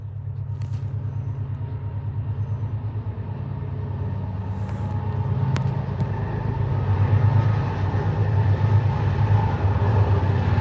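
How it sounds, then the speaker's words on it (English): A train passing nearby on a U.S. road trip produces a continuous heavy rumble that slowly swells louder, with no speech over it. "I can't yell over this train"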